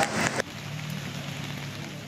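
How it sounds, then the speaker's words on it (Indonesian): Heavy rain falls during flooding in Manado, Indonesia, as a steady hiss. A brief louder burst comes at the start, then the downpour continues evenly with no voices. "Intensitas hujan di kota Manado masih tinggi."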